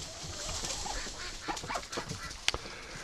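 Ducks in a pen quack and honk at close range over a noisy outdoor background, with a few sharper calls toward the end.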